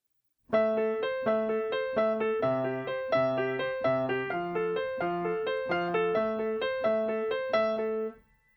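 Piano plays a steady rising arpeggio pattern with lower left-hand bass notes underneath, evenly paced and ringing, alone without any voices.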